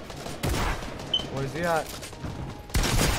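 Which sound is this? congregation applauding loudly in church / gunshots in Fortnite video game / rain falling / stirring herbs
gunshots in Fortnite video game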